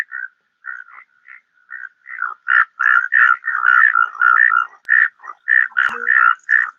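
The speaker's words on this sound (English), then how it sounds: "this kind of croaking is called chorus calling." Several common Indian toads call together in a chorus, overlapping short croaking notes that grow denser and louder, repeating rapidly with no talking.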